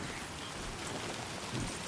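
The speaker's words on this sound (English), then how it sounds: "Looks like Timefall's been pretty relentless." Timefall rain in the video game Death Stranding 2 pours as a steady, dense hiss of falling rain, continuous and soft across the whole moment, with no voices.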